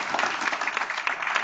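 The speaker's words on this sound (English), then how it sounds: "give our REL AP scholars who could be with us tonight another big round of applause" A room full of people gives a steady round of applause at a school board meeting, honoring AP scholars; dense, continuous clapping fills the space without a break.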